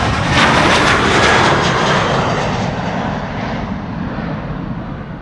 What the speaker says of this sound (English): This is KLM flight 1043 to Birmingham. 737-800.